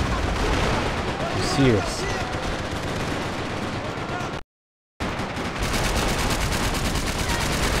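Multiplayer gunshots in Max Payne 3, dense rapid gunfire crackling loudly and continuously, broken by a brief silent gap before resuming, with a voice speaking briefly over the shooting.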